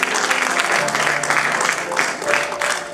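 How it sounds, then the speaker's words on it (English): A church congregation claps their hands together in dense, continuous applause that fills the room, loud and close for a few seconds. "Clap your hands to Jesus today."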